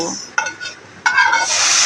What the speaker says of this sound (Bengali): পেঁয়াজটাকে এবার বাদামি করে ভেজে নেব।